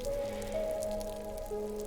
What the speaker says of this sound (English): now is not the time to savor the flavor of rain